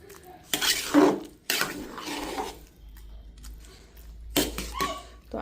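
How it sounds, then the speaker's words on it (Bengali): Chicken khichuri with coriander leaves being stirred in a big pot, several scraping and clanking bursts of a metal spoon against the pot in uneven rhythm, close and moderately loud. "মাংস খিচুড়ি ধনে পাতা সব আমি একসাথে মিশিয়ে দিচ্ছি"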